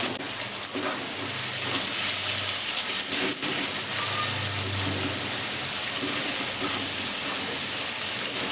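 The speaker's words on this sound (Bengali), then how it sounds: "এবার আমি ইঁচড়গুলো তেলে ভেজে নেব।" Unripe jackfruit pieces frying in hot oil over a high gas flame after prawns, giving a loud, steady, close hissing sizzle that runs unbroken throughout.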